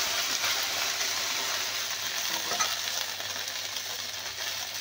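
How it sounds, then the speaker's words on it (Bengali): Okra (ladies finger) frying in a pan in rustic village-style cooking, a steady hissing sizzle of hot oil with faint stirring scrapes, close and continuous. "বেশ ভালো করে ভাজতে হবে। দেখুন একটু ভালো করে ভেজে নিয়েছি।"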